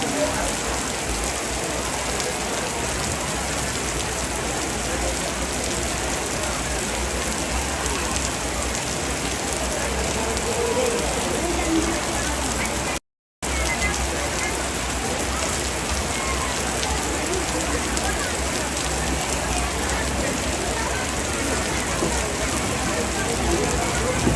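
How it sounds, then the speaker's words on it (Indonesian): Steady rain falls during an outdoor Rambu Solo' funeral gathering at a Tongkonan, a dense, continuous patter that holds the whole time, with faint voices in the background and one brief dropout. "Berhubung ini lagi hujan juga."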